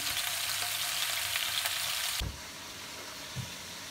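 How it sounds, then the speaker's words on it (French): Chicken pieces for Senegalese poulet yassa sear in a shallow layer of oil, a loud dense close sizzle that drops abruptly to a quieter fry partway through, with a faint knock near the end. "Donc un bon petit fond d'huile et c'est parti. On va faire griller de tous les côtés."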